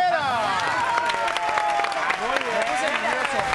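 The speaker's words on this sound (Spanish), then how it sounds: "Un aplauso al mágico" A studio audience on the TV show Sale el Sol applauds as magician Mago Herrera is welcomed, with steady clapping and cheering running throughout under lively music and voices.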